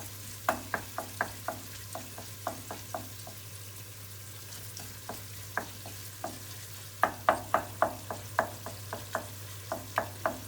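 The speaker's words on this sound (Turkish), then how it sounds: "Burada biraz kavuruyorum tencerenin ortasında." Steady sizzle of tomato paste frying in a pot with a spoon repeatedly scraping and stirring, sharp clicks in an irregular rhythm over a low hum.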